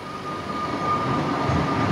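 An electric hillside train covered in graffiti rolls past with a steady, broad rumble and a faint high whine, the noise building slightly as it passes.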